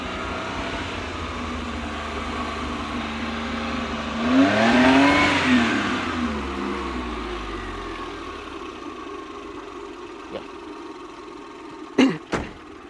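A 1995 Maruti 800 small petrol engine running after carburetor work, idling steadily, then revving up and down in one loud swell, settling back to idle before two sharp clicks near the end.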